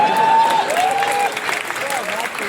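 An audience at a poetry recital in a college setting claps and cheers in a dense, continuous burst, while someone speaks over the applause.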